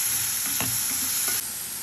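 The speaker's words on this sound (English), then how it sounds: "Chop in the onions and saute it for a little bit," Chopped onions sauteing in green olive oil in a pan, a steady close sizzle with a few soft stirring scrapes, heard alone without talk.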